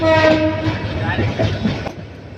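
A mail train rolls into Tongi station in Bangladesh, with a loud horn-like tonal blare at the start, then rumbling and clattering of the cars. Faint voices sound in the background.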